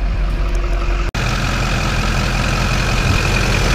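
A Duramax diesel pickup engine idles steadily during an injector cleaning, a close, loud, constant rumble with a faint hum above it and one momentary dropout.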